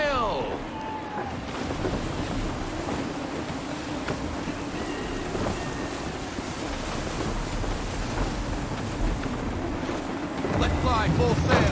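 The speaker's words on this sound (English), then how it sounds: "Gusty winds can be difficult to manage." Gusty wind roars across the open sea around a sailing ship in Assassin's Creed III, a constant loud rush mixed with waves and creaking, with a voice speaking over it.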